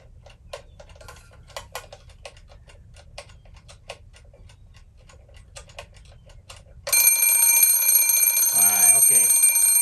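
An alarm clock goes off after several seconds of quiet ticking, its loud steady electronic ring continuing to the end without any talking.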